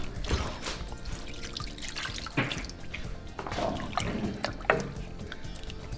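A soft, continuous trickle and splash of water running into a pot of chicken for a Cameroonian chicken tomato stew, with occasional drips and clinks, steady and close.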